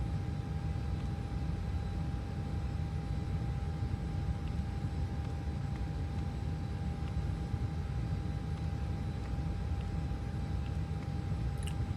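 An airliner rolls down runway 24 for takeoff in a flight simulator on a Paris to Marseille flight, its engines a steady, loud, unbroken roar that holds evenly throughout with no voices.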